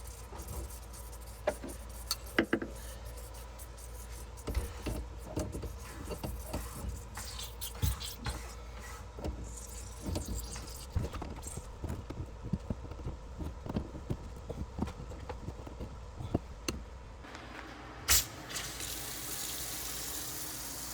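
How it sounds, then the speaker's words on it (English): A kitchen faucet runs cold water to flush a newly installed under-sink filter, giving a steady rushing stream broken by scattered clicks and knocks, with a brief louder splash near the end. "Now turn on your faucet and let the cold water run for at least 5 minutes"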